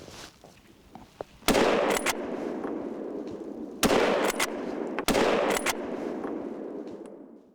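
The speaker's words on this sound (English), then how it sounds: "Three very fast shots." Rifle shots at a wild boar hunt in deep snow, three loud, sharp reports in quick succession, each followed by a long rolling echo across open ground, with no voices.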